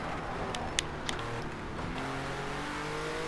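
A BMW Z4's engine drones steadily under a racing video game, a continuous mid-pitched hum joined by a few brief sharp clicks and ticks, with no talking over it.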